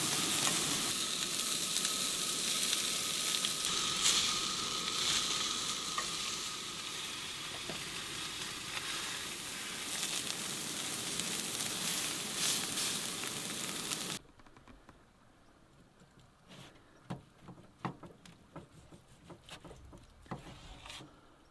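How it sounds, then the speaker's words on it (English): Steak frying while camping during an overland trip in Utah, a loud steady hiss and crackle of sizzling fat with some stirring, then after a cut a much quieter scene with scattered sharp clicks and taps. "I tried to warn you I was cooking steak"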